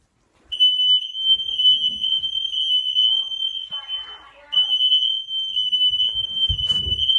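Smoke detector being tested at home, sounding a loud, steady, piercing electronic tone that runs for several seconds, cuts out briefly and resumes, with a person talking faintly in between and near the end.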